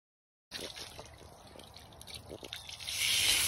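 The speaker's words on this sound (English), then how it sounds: "Now we'll give it a light rinse," A light stream of water rinses bleach-scrubbed patio pavers outdoors, a soft spattering hiss that swells louder toward the end, with no voices.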